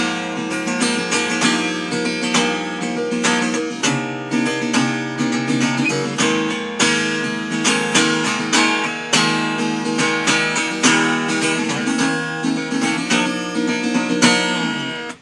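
A Taylor Swift signature Baby Taylor acoustic guitar is strummed in steady, bright chords, loud and close, with no talking.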